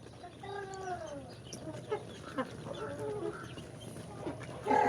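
Chickens on a rural farm scuffle in straw, with squawks and harsh calls rising and falling at close range, a brief flurry of sharper cries near the end.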